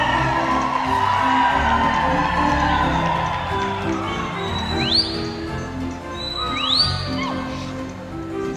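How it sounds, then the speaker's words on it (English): Five-gaited show horses trotting on the rail at a championship show class, with a couple of high whinnies rising over a steady murmur of arena crowd noise and hoof activity. "Show those 5-gated horses at the trot now."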